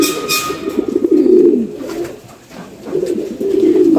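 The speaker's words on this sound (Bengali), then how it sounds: "কবুতরগুলো সব সুস্থ আছে।" Pigeons cooing inside a pigeon house, close and clear, in two rolling, throaty phrases separated by a brief lull.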